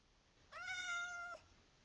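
A single drawn-out cat meow from a witch-themed video game, clear and close, lasting under a second against a quiet background.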